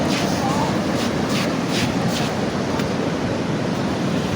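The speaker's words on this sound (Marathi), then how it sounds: "बघा मस्त समुद्र असं आता पावसाळ्यामध्ये जास्त पाणी आहे" Monsoon sea surf at a beach rolls in as a continuous loud wash of breaking waves, with wind buffeting the microphone throughout.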